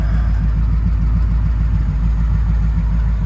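A 1939 Ford Deluxe Coupe with a built flathead engine and two carburetors runs at a steady idle, a loud, close, even low rumble throughout.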